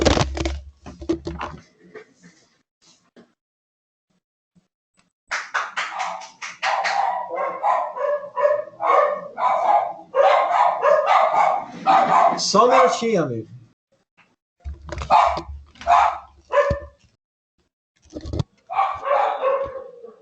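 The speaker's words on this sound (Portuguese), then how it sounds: "Acho que vocês estão ouvindo os cachorrinhos aí" Small dogs bark in sharp, repeated bursts indoors, loud and close, with someone speaking Portuguese between and over the barking.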